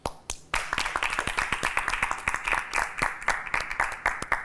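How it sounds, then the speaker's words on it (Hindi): Contestants on a Hindi reality show clap for themselves at an elimination round, a group of hands beating out quick, uneven claps that fill the room fairly loudly and steadily throughout. "मैं ये कहना चाहता हूँ कि आप सब लोग अपने लिए तालियां बजाएं।"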